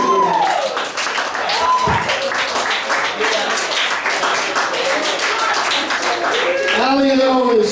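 Audience at a comedy show applauding: dense, continuous clapping from a crowd for several seconds, loud and close, with someone talking over it near the start and again at the end.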